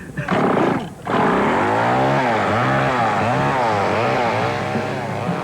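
A running chainsaw roars loudly during a juggling act on a 1984 television show, revving and wavering in pitch as it is flipped, after a brief burst of noise at the start.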